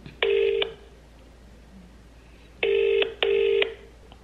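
Three telephone keypad tones beep while a call is dialled, one short tone followed after a pause by two in quick succession, clear and close in a quiet room.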